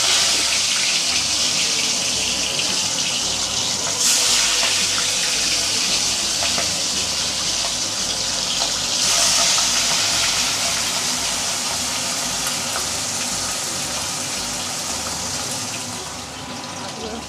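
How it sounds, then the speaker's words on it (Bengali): Small fish sizzling and spitting in hot oil for a Bengali fish curry, a steady loud broadband hiss with crackling bursts throughout, the rushing texture close to the microphone. "সুন্দর করে মাছগুলো ফ্রাই হয়ে গেছে।"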